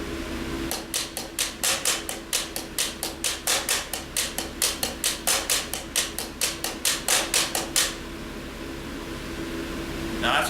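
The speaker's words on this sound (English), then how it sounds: "you can start playing both variations of the ghost note in repetition, and it makes a really cool drum beat" A steady drum groove of sharp accented hits mixed with soft ghost strokes, played fast and evenly, then stopping abruptly, leaving a low background hum.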